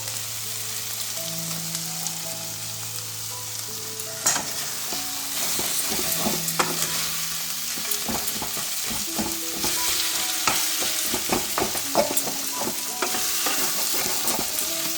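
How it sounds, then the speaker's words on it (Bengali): Onion and mince frying in ghee while being stirred in a pan, a steady sizzle broken by scraping, clattering stirs throughout, with no one speaking. "যেহেতু ঘি দিয়ে পেঁয়াজটা খুব সুন্দর করে ভাজা হয়েছে"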